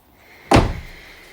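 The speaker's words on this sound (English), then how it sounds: "lovely door clunk. Like big solid doors as well" The door of a 211-generation Mercedes E-Class shuts with one solid, deep clunk close by, followed by a short low decay and then quiet.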